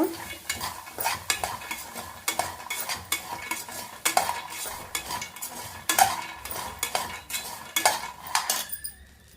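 Masala peanuts being stirred and roasted in a pan, a spoon scraping and clinking against the metal in steady repeated strokes, close and clear with a faint sizzle underneath, stopping near the end.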